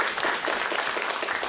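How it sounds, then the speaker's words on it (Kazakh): A stand-up comedy improv audience breaks into a short round of applause, a fairly faint, even wash of clapping that fills the moment without talk. "Давайте шапалақ соғып"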